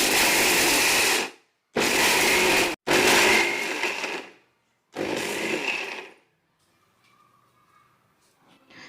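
A mixer grinder coarsely grinds roasted peanuts for laddoo in four loud, close bursts of about a second each, separated by short pauses, then stops, leaving faint rattling.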